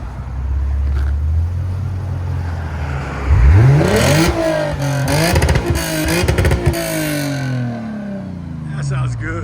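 A Lexus RC 350 with Apex mufflers starts at a low idle, then revs sharply several times, its exhaust rising and falling in quick throttle blips before settling back to a deep idle.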